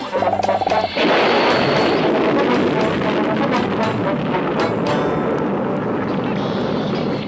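Cartoon firecrackers going off in a loud, continuous barrage of crackling bangs and pops that starts abruptly after a short lead-in and keeps going without a break.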